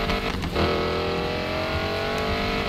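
Modded car in Need for Speed Payback drifting at high speed, its engine droning loud and steady with a sustained roar and tyre noise and no pause.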